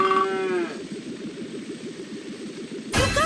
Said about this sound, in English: There's a cow.